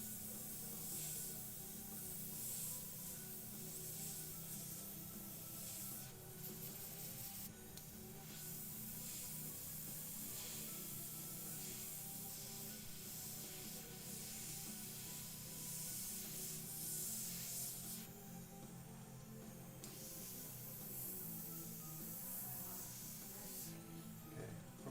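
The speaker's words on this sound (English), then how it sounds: "It's real tight with the airbrush, air pressure turned down, hardly any paint coming out." Airbrush spraying paint at low air pressure on a sculpted tombstone bust, a soft, steady airy hiss that briefly stops and restarts, close but quiet.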